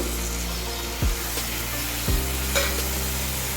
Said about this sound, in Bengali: এখন এর মধ্যে দিয়ে দিচ্ছি ভেজে রাখা আলু